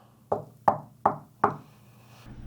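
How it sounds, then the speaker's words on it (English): Four sharp knocks on a table, evenly spaced and close, each one a crisp rap with a short decay, followed by quiet room tone. "I will knock on that side, on the table."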